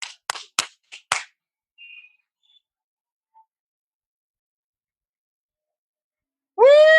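Scattered hand claps from people up on New York rooftops, a quick burst of several sharp claps close by, then a long quiet stretch before a loud tonal shout at the end.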